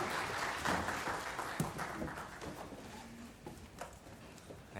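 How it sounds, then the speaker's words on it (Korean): Congregation clapping during a Wednesday worship service at a Korean church, fairly quiet and continuous applause that thins toward the end, with scattered individual claps standing out. "하나님께 영광 박수 돌리겠습니다."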